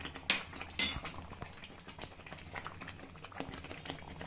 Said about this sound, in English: Now the bhaji has already been done. It is boiling. Let it boil like this.